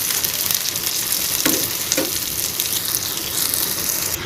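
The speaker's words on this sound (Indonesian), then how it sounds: "Kita goreng untuk panggang ya." Chocolate-filled pastry made from flour and chocolate sprinkles fries in a pan with a continuous loud sizzle and crackle. A couple of soft scrapes of stirring are heard close up, with no voices.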